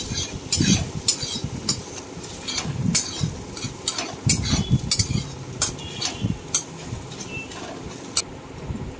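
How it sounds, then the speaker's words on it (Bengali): A spoon scraping and stirring banana flower curry with grated coconut in a pan, irregular close clinks and scrapes over a low sizzle. "নারকেল কোড়াটা দিয়ে ভালো করে নাড়াচাড়া করে নিচ্ছি"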